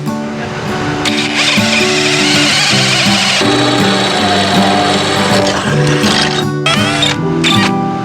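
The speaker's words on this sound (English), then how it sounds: "I gotta use that as my template for drilling my hole." A loud, steady power drill whirs continuously while drilling a hole for a sailboat chainplate, its pitch shifting slightly as it works, with short breaks near the end.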